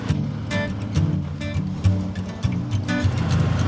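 Road traffic near Angkor Wat in Cambodia as a big truck passes: a steady, heavy low engine rumble that swells and surges several times, with no voices over it.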